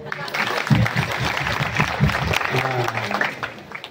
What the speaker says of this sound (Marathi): पुरुष मंडळी यांच्याकरता टाळी वाजवा बऱ्याचदा